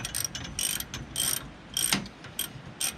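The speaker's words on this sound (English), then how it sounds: "now I'm just going to snug up the U-bolts" Ratchet snugging up the U-bolts on a trailer axle with a flip kit, outdoors at a backcountry campground: a series of short, sharp clicking bursts in quick groups, close and fairly loud, with no talking.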